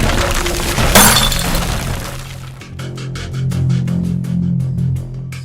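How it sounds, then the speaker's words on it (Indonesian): Glass milk bottles shatter with a loud crash as a cart tips over, followed by scattered clinking fragments over a low rumbling, rolling noise. "Tiba-tiba, kereta itu terguling dan botol-botolnya pecah"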